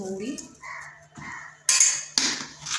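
Dry ingredients for a pakan pitha batter, including baking powder, stirred in a bowl: a few scraping clinks of a spoon against the bowl follow a voice speaking, then come two sharper rattling bursts.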